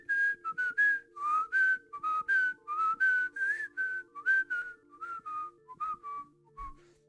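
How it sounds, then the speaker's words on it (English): A person whistles a lively tune alone: a run of clear, high, bouncing notes in short phrases, close and steady, with a low electronic hum underneath and no talking. "can I whistle?"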